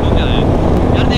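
Steady broadband wind blast and rushing air while riding a Royal Enfield Himalayan 450 motorcycle on a highway, loud and continuous, with faint hints of a voice underneath.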